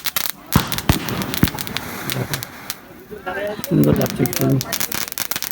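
Tubri-style fireworks burst and crackle on a rooftop during Mahalaya, with sharp pops and fizzing bursts scattered through the moment while people talk nearby.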